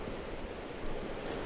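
Steady rain in a modded Minecraft Skyblock world, a soft, even hiss of drops falling without pause, with no voices over it.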